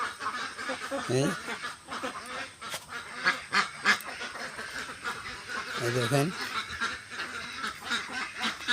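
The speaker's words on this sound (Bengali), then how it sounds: "দেখেন হাঁসের খামার, কত সুন্দর সুন্দর হাঁস।" White ducks at a duck farm quack in a busy, overlapping chorus of nasal calls, some near and some farther off. A person talks over them.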